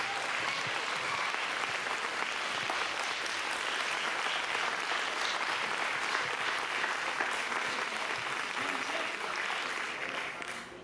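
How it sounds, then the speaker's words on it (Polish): A large audience gives sustained, dense applause at a conference's final awards gala in Stary Maneż, Gdańsk; the clapping holds steady for about ten seconds and then begins to fade. "I jeszcze raz wielkie brawa dla tych wszystkich"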